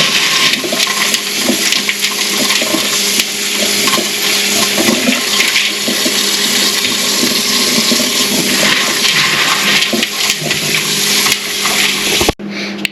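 Tap water runs steadily and loudly over dry beans being washed in a kitchen, a continuous gushing splash that ends abruptly with a clunk near the close.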